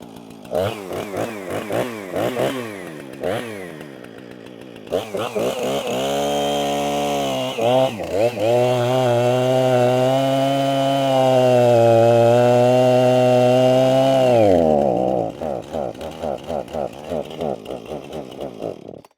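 Chainsaw cutting cedar wood with a revived stump-cutting chain: the engine revs and stutters, then holds a loud, sustained high whine through the cut before dropping back to rough idle, close by.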